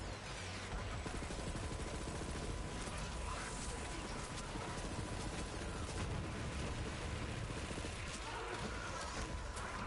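Dense, continuous rapid gunfire-like blasts from an iron cannon in Borderlands 3, loud and sustained throughout with no pauses.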